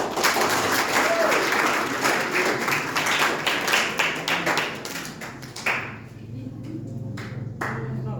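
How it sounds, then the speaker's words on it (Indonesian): Applause from a group at a quiz-style event, dense clapping at first that thins into a few scattered, distinct claps as it dies away. "Tepuk tangan."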